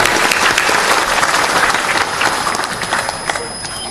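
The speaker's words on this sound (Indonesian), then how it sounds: "Tepuk tangan untuk semua pejuang kita." Loud, dense applause from an audience at an Islamic religious talk, many hands clapping together close by and fairly even throughout, easing slightly toward the end.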